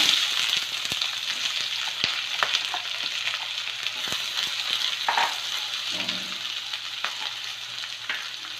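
Onions with whole garam masala sizzle in hot oil for egg kurma, a close, steady frying hiss broken by occasional stirring scrapes and light clinks of a pan, with no talking.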